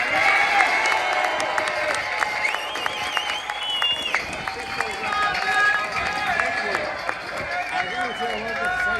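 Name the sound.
crowd applause and cheering at a street rally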